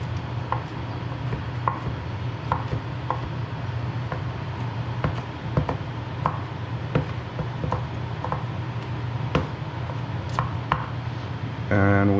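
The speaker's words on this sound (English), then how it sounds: "Give it a little quick rough chop." Kitchen knife rough-chopping garlic on a cutting board, a steady series of crisp taps at an uneven pace, near and alone over a constant low background hum.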